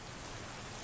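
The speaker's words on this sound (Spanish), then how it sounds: "Esta es la lluvia" A brief burst of dense, steady rainfall, a constant bright hiss of drops with no talking.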